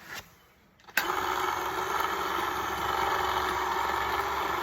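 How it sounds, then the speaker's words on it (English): An electric winch on a sailboat kicks on abruptly and runs as a steady, loud mechanical whine and hum while it hauls the boat's blown engine out. The motor drones on without pause after a brief quiet start. "And now we got our winch hook ready to pull that engine out."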